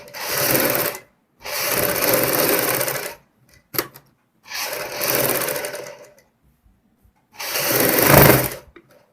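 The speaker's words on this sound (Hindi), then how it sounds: "अब हम यहाँ पे बुकरम के साथ साथ सिलाई लगाते हैं" A sewing machine stitches a kurti neckline reinforced with buckram in four loud, close bursts of rapid needle chatter separated by short pauses, with a brief click partway through.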